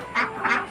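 Ducks at a dairy farm quack in two clear bursts with a third starting at the end, moderately close and with no talking.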